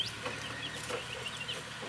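Backyard chickens with feathered feet cluck softly and steadily, fairly close but faint, with no one talking.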